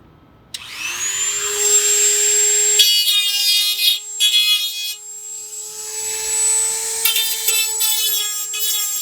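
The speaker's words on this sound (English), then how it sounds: "I may just use my Dremel tool to get it done just a little bit faster" A Dremel rotary tool spins up to a steady high-pitched whine while filing down screw holes on a metal coal door for a Weber Smokey Mountain smoker, with rasping bursts of grinding as the bit bites into the metal, loud and close.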